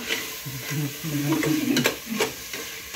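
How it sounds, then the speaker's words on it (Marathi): Crab claws sauté in masala with a lively, close sizzle and frequent stirring scrapes, and a faint voice is briefly heard underneath. "खेकड्याच्या नांग्या जरा परतून घेत आहेत मसाल्यामध्ये"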